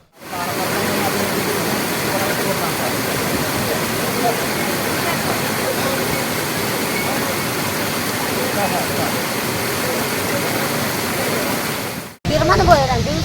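Floodwater rushing down the Chittur river in Palakkad after a regulator upstream was opened: a loud, unbroken roar of churning water, close and steady throughout, then cut off abruptly near the end by a different, noisier passage.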